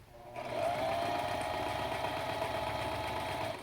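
A sewing machine stitches a fabric face mask in one continuous, steady run, its rapid mechanical whir starting abruptly and holding close and loud for a few seconds.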